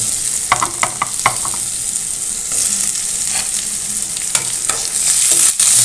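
Shrimp go into a hot pan and are stir-fried for a banana blossom dish with ladyfinger and coconut milk. A loud, continuous sizzle runs throughout, with sharp utensil scrapes and clicks against the pan, and no talking.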